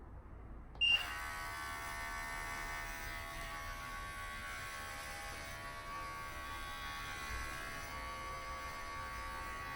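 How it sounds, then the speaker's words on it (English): An electric razor switches on with a sharp click and then buzzes steadily and close for several seconds as it cuts a person's own hair, a continuous motor whine with slight shifts as it moves over the scalp. "So I'm going to cut this short, definitely the razors."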